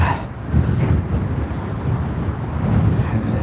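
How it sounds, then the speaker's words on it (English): Wind buffeting a microphone outdoors on a roadside coin hunt, a loud, continuous low rumble that swells and eases without any talking. "The wind is really kicking up."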